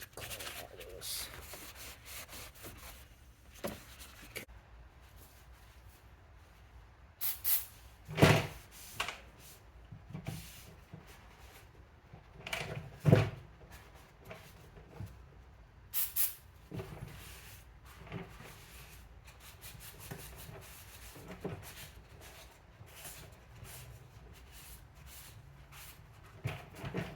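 Carb cleaner being wiped over a dirty BMW E90 engine around the valve cover: soft, intermittent rubbing and scrubbing, close and fairly quiet, broken by a few sharp clicks and knocks.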